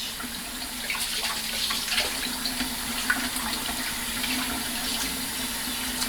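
Tap water runs steadily into a kitchen sink while oxtail is rinsed, a continuous close splashing hiss with small irregular spatters, no voices.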